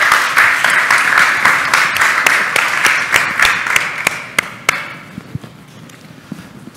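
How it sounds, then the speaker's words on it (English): An audience at a morning community summit applauds loudly as one dense burst of clapping, which thins over several seconds into scattered, sharper single claps before stopping. "So give yourself a round of applause."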